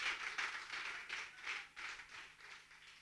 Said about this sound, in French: Applaudissez pour vous-même, s'il vous plaît